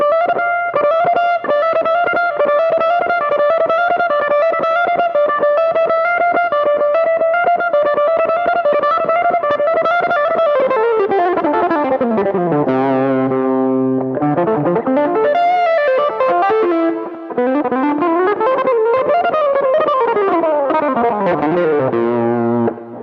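Fast, smooth legato electric guitar lead with heavy distortion and effects, notes running in quick flowing runs that sweep up and down, loud and continuous with no talking.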